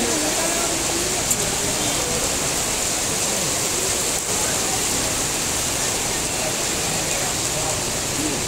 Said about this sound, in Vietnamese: mưa rất là lớn luôn cả nhà nè.